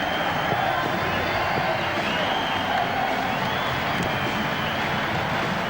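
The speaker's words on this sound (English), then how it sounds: "the St Helens supporters who stayed till the end, they generously applaud their team off the field" St Helens rugby league supporters at the end of a 2002 match against Wigan, clapping steadily as their team leaves the field, a broad distant crowd wash under a commentator's voice.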